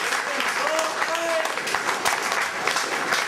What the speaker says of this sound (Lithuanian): Gal pakviečiam juos plojamai?